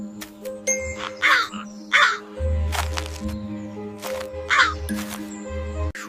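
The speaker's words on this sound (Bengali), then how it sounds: "তারপর কাকটি খুব জোরে কা কা করে আওয়াজ করলো।" A cartoon crow caws loudly again and again in a Bangla children's cartoon, the harsh calls rising over sustained background music in a steady run of bursts.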